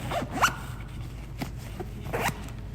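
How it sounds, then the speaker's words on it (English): Zipper pulled shut on an Auline FPV drone carrying bag, two quick close zips about two seconds apart, with light handling noise between them. "And zip this guy up."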